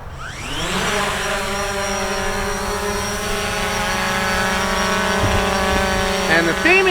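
A Fimi X8 SE drone spins up and takes off outdoors at a reservoir park, its rotors rising into a steady, loud, close whine that holds for several seconds.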